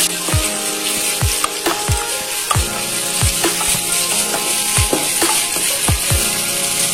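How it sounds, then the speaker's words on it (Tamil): Onions with curry leaves sauté in hot oil in a pan for a Kumbakonam kadappa kuruma, a steady close sizzle broken by repeated scraping stirs of a spatula against the pan. "வெங்காயம் நல்லா வதங்கட்டும் எண்ணெயில."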